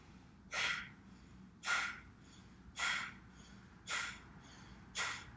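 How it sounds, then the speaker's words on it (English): Five sharp, forceful nasal exhalations from yoga belly breathing, evenly spaced about a second apart, close and clear with quiet passive inhales between them. "See how I'm breathing out forcefully through my nose."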